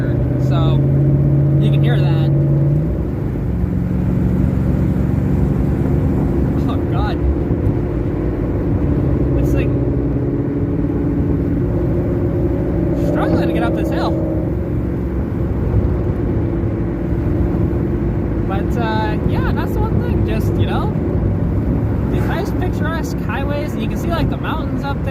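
Ford Mustang with a leaky exhaust header cruising in a group drive, a continuous droning engine and road rumble heard from inside the car, with brief speech-like chirps over it.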